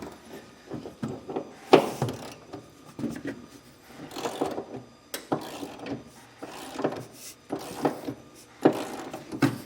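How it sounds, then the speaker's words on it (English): Ratchet socket wrench torquing 5/8 bolts into the cross rail of a Curt E16 fifth wheel hitch on a 2015 Ram 1500, giving repeated bursts of mechanical clicking and metal rubbing in an irregular rhythm, fairly close. "we're going to be torquing our 5/8 bolts, running up into our cross rail here"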